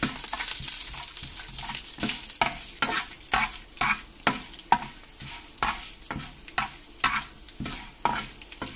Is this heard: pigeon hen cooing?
no